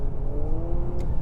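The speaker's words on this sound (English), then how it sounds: "This is a very odd sounding vehicle." A 2023 Honda CR-V Hybrid AWD accelerating, its engine giving a steady, moderately loud droning hum with a rising whine, close and continuous for about a second with no talk.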